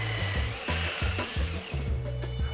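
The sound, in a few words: drill boring into brick wall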